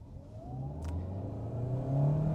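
A 2022 Kia Sorento Hybrid's 1.6-litre engine accelerating in sport mode, a steady, rising engine drone that grows louder toward the end, heard from inside the cabin.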